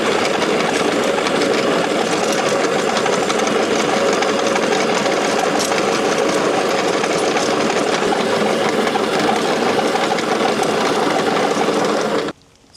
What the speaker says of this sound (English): let's get this aerator out, get some holes spiked in